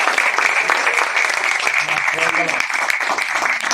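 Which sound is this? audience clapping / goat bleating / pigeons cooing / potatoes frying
audience clapping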